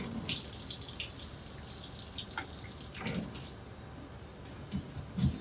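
Water runs from a kitchen tap during sea bream preparation, a soft, steady hiss with scattered splashes and drips, fairly faint and alone.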